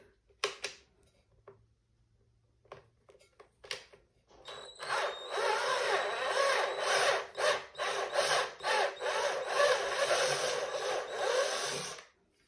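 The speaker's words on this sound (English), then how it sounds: "So now I'm tapping, so turning my drill slowly." A drill turning slowly to tap threads for potter's wheel bat pins whirs steadily for several seconds with a grinding, rasping texture, preceded by a few scattered taps and clicks.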